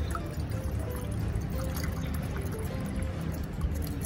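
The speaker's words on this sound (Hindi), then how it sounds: "तो इसमें मैं पानी डालूंगी।" Water pours steadily into a heated cooking pot holding millet and lentils for khichdi, a continuous close splashing pour lasting the whole moment without talk.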